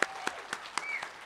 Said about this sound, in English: let's hear it one more time for the students of Pueblo Community College